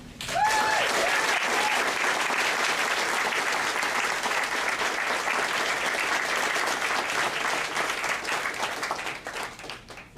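An audience at a cancer center dedication claps in warm, sustained applause welcoming a speaker to the stage, loud and dense for most of the stretch before thinning out at the very end.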